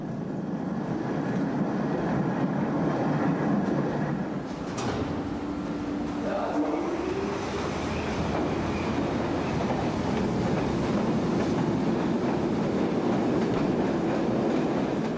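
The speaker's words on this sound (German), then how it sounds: "Oben rollt in der Chausseestraße die Straßenbahn." A tram rolls along Chausseestraße above the underground Nordbahnhof station in Berlin, a continuous low rumble with a brief wheel squeal midway, heard steadily throughout.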